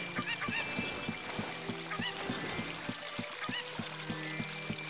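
A chicken clucks in the video game Zelda Ocarina of Time (a hack): short, repeated squawking calls stand out against steady game sound effects and background music.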